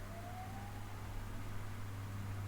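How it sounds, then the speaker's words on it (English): An emergency vehicle siren blares outside on a Sunday night, a loud steady wail with a low hum underneath, continuous and unbroken throughout. "they need to have the siren"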